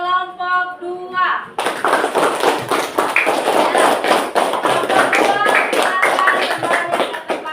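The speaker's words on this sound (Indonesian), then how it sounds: "Kita beri aplaus untuk kelompok 2." Classmates in a school classroom burst into a dense round of clapping for a presenting group, loud and close, lasting several seconds after a short stretch of a teacher's voice.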